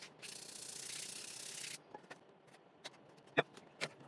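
Sandpaper rubs briskly on a model aircraft propeller in a long continuous stroke, then gives way to a few short, scattered scrapes and taps, close and fairly quiet.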